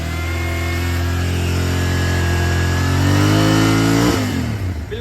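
A 650 cc motorcycle engine revs up to about 5000 RPM, a loud, close, steady rising drone that holds high and then drops off sharply near the end.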